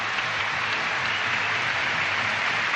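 Steady, dense applause from a gymnastics competition arena crowd, the coach leading the clapping, sustained evenly throughout with no pauses and no voices.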